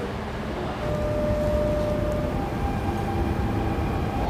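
Steady low rumble and hum inside a moving Dubai Metro car, continuous rolling noise with faint tonal whine, no voices.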